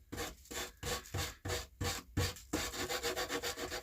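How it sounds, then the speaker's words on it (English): Wood sanded by hand before filler goes on, a close, steady rasping scrub in a regular back-and-forth rhythm that speeds into quicker, shorter strokes toward the end. "We're just getting this all sanded,"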